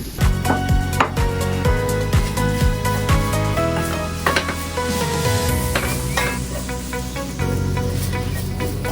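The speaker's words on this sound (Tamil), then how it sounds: "இனி இதுக்குள்ளே வந்து நாங்கள் இந்த தேங்காய் பூ போட போகிறோம் நல்ல பொன்னுறமாக வர மட்டும் நாங்கள் கொஞ்சம் வறுத்தெடுப்போம்" Grated coconut roasting in a pan, giving a steady sizzle with repeated scraping and stirring strokes throughout, close and fairly loud, with no talking.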